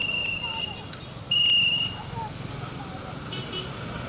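Two sharp, shrill blasts from a traffic guard's whistle sound, the second longer, over the low rumble of passing road traffic in Benin with voices in the background.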